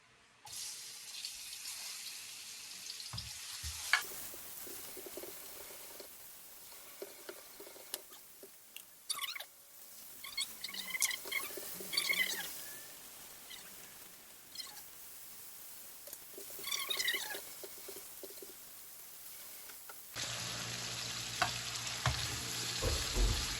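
Garlic and onion sauté in a pan for pancit bato, with intermittent sizzling and stirring. Running water and sink sounds come and go, and a louder steady sizzle starts near the end.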